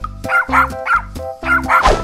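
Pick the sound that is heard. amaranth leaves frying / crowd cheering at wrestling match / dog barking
dog barking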